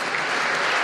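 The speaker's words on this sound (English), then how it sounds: "Please a round of applause for him." An audience at a national youth service honours award ceremony breaks into applause, a dense, continuous clatter of many hands heard loud and close in a brief burst.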